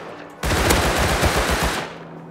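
A loud, sustained burst of rapid automatic gunfire from the survival video game Rust, rattling continuously for about a second and a half before cutting off abruptly.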